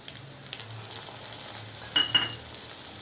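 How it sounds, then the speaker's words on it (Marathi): Onion and peas frying in a pan, a soft steady sizzle with a few louder stirring clatters near the end, close and fairly quiet. "कांदा परतत आहे तोपर्यंतच आपण आता यामध्ये थोडेसे मटार घालूया"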